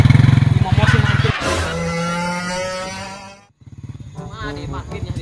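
Motorcycle engine idling and revving nearby, a rapid pulsing putter that swells, drops to a brief gap, then resumes thumping, with a voice talking in the background.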